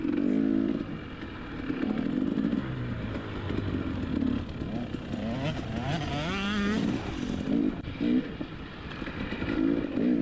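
A dirt bike races around a dusty motocross grand prix course, its engine droning and revving steadily through the whole stretch, with pitch rising and falling as the rider accelerates, and a voice talking over it.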